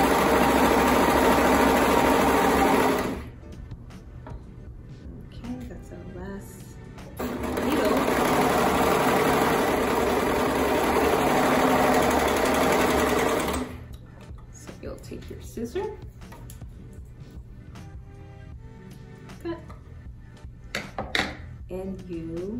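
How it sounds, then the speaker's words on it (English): A serger stitches around a circular fabric pattern, its motor whirring loud and steady in two long runs, stopping between them, followed by quieter handling sounds and light knocks. "And you have serged your circular pattern in a circular motion."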